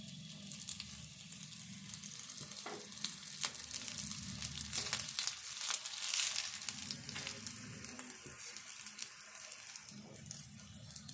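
Appam cooking in a little oil in a pan, giving a faint, soft sizzle with occasional light crackles and scrapes close by.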